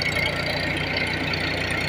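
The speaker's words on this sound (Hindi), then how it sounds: "अभी ट्रैक्टर से खेत जोताई का दबा" A tractor engine runs steadily while ploughing a farm field on a paddy-planting day, a close, continuous mid-to-low drone with no pauses and no voices.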